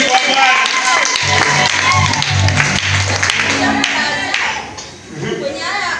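A church congregation claps hands together in a lively, steady rhythm, with voices calling out and talking over the loud applause throughout.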